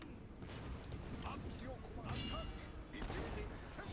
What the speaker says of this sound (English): let's bombard this